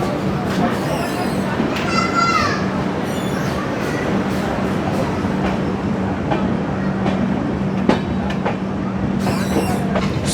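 Passenger express train running on rails after departing New Jalpaiguri, a steady rumble with rhythmic clickety-clack of wheels and occasional squeals, heard from inside a carriage with faint voices in the background throughout.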